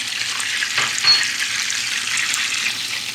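A spoonful of dried mint frying in hot melted butter in a pan makes a loud, continuous crackling sizzle, close and even, with a slight swell just after the first second and no voices.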